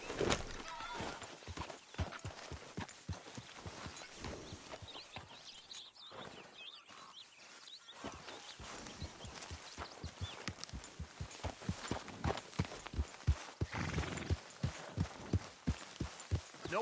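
Horse hooves clip-clopping at a steady walk in Red Dead Redemption 2, distinct repeated thuds close by with faint birds in the background.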